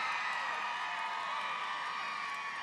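A large outdoor crowd at a Trump campaign rally in Prescott, Arizona roars and cheers in a steady, dense wash of voices for a few seconds, with no single voice standing out.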